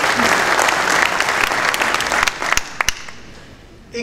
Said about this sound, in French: Parce que vous applaudissez.